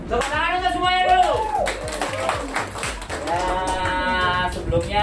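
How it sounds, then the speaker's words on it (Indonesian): Audience clapping at a community gathering with migrant domestic workers in Hong Kong, rhythmic claps under loud overlapping voices and cheering. "tepuk tangan untuk semuanya dulu."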